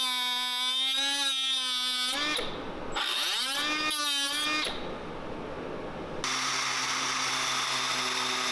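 Power tool cutting and sanding a high-clearance wing off a Toyota Tacoma stump bumper, a loud whining motor that rises and drops in pitch across several bursts, then settles into a steady rough grind.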